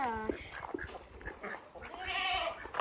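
Goats bleat repeatedly in a farm or county fair livestock setting, several wavering calls close by with rustling and background movement between them.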